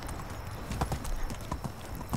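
A donkey's hooves walking in the video game Medieval Dynasty, a run of irregular, fairly close clip-clop steps over a soft ambient background.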